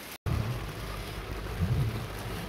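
Steady rain pattering on a car while driving to work, a continuous broadband wash with low rumbling undertones, briefly cut out near the start, no voices.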